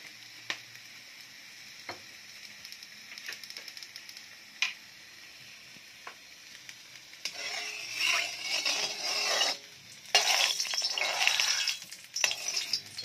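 Cooking oil poured into a hot wok for Bicol Express. A few sparse ticks and clinks come first, then a loud crackling sizzle swells, briefly dips, and surges again close by.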